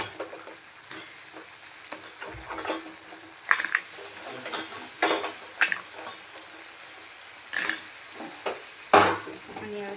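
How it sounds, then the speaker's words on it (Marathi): Crabs tossed into cooked masala and stirred in a hot pan for crab curry: continuous sizzling broken by sharp scrapes and clacks of the spoon against shells and metal, close up, without voices. "यात आपण आपले खेकडे ॲड करू."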